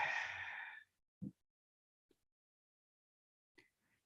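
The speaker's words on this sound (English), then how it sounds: "And breathe it in" A single deep breath in, heard close and breathy at the start before trailing into near silence broken by a few faint small sounds.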